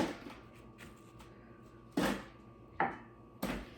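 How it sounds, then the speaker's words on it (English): Apples dropped into the hopper of a Nama J2 juicer, three distinct hard thuds at irregular intervals, close and fairly crisp against a quiet background. "I'll throw these apples in while I've got them here."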